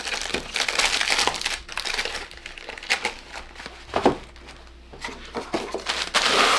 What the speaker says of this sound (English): I do kind of like fold the cello a bit.